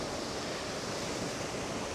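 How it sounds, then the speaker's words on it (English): Continuous rushing wash of a small waterfall at Talla Reservoir on a rainy day, a steady broadband roar close by with no breaks or other sounds. "So I'm just including this wee waterfall here"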